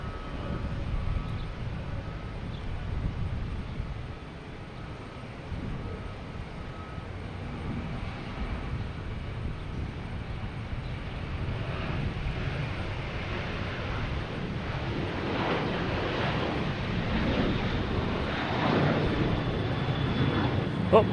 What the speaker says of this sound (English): We have an American Airlines 737-800 heading to Chicago.